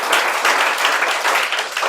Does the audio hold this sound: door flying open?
no